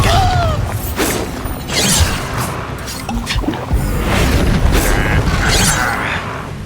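Bombarda blasting spell explosions in Hogwarts Legacy, loud punchy booms and crashing debris in quick succession, layered with other spell effects and combat noise.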